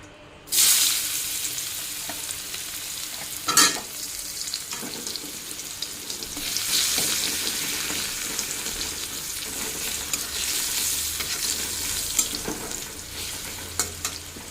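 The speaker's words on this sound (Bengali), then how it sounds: "তেলটা গরম হয়ে গেছে দিয়ে দিই পেঁয়াজ কুচি" Chopped onions drop into hot oil with a sudden loud burst of sizzling, then a steady, bright frying hiss continues, interrupted by an occasional stirring scrape, heard close with no talking.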